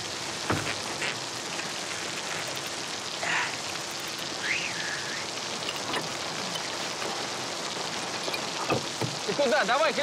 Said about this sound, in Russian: смотри, какой дождина поливает